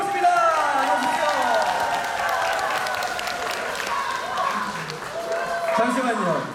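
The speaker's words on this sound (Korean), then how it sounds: "박수로 모십니다!" Studio audience applause and cheering welcoming a contestant onto the stage at a televised trot singing competition, a loud sustained wash of clapping mixed with crowd noise and voices, continuing without a break.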